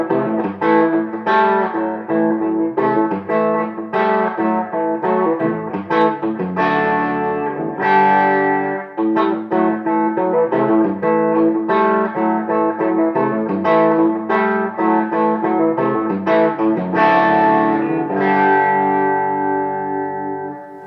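Electric guitar through a Jet City amp on the bridge pickup with the guitar volume all the way up, meant as a clean tone, plays a continuous loud run of strummed chords and single notes with a bright, slightly effected ring.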